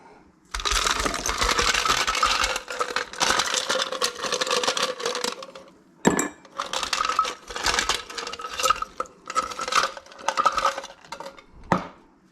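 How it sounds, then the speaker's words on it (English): A cocktail shaker full of ice is shaken hard while making a coconut and pineapple cocktail, giving loud, dense rattling bursts in uneven rhythmic bouts separated by brief pauses. "About 30 shakes on the dry shake. Got some ice here."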